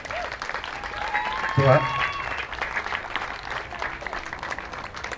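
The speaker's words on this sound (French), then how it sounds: "je vous demande d'applaudir." Guests at a customary wedding ceremony clap in a steady, broad wash of applause while a voice speaks briefly over it.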